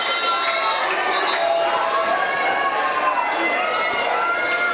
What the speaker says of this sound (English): Good energy in the crowd, though, when that play happened.